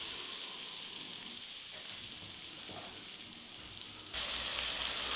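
Flour-dusted flounder frying in butter over medium heat makes a soft, steady sizzle that suddenly grows louder and brighter near the end.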